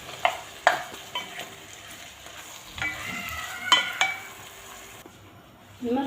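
Meat with chopped tomato and pepper is stirred in a frying pot, soft sizzling under repeated scrapes and clinks of a utensil against the pot, close and fairly quiet.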